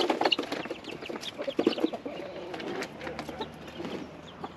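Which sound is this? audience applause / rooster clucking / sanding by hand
rooster clucking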